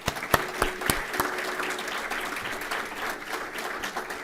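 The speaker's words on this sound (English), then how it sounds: "giving all of them a round of applause for their efforts" Audience applause at an awards dinner, a dense steady wash of many hands clapping that runs the whole time, with a few sharp individual claps standing out near the start.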